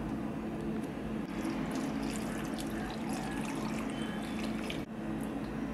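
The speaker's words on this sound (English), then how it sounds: "Now pour 2 cups of water." Water is poured into a cooking pot for a winter melon dal curry, a continuous splashing and trickling stream at close range with a faint steady hum underneath, and no talking.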